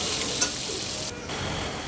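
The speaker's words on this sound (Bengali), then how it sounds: "আলু পটল ভালো করে ভাজা হয়ে গেছে" Potatoes and pointed gourd frying in oil give a continuous, close hiss and crackle of sizzling for a couple of seconds, with a faint stirring touch.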